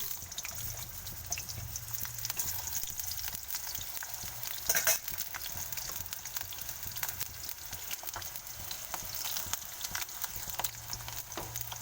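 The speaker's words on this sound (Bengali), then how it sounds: "তেলটা গরম হয়ে গেলে আলুগুলো তুলে দেব।" Potatoes fry in plenty of hot mustard oil with a quiet, continuous hiss and sizzle. Occasional faint clinks and crackles can be heard, and one brief louder burst comes midway.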